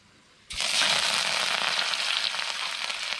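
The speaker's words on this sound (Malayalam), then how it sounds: "വേപ്പില നമുക്കിടാം." Curry leaves hit hot oil already holding mustard seeds and chillies, bursting into a loud, steady crackling sizzle that stays dense and close after the sudden start.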